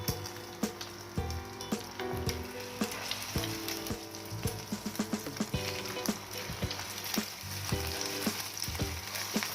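Shami kabab patties frying in hot ghee, a steady loud sizzle and crackle throughout with small bursts of popping and occasional stirring or utensil taps.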